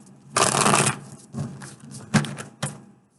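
Tarot cards being shuffled by hand, a long riffling burst followed by several shorter shuffles and soft taps, close and clear with no talk.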